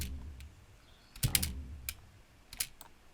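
A metal tub found in the woods, struck and sampled as a low tom or kick: a few sharp, quiet knocks, with one heavier, resonant thump in the middle and a couple of lighter taps after it.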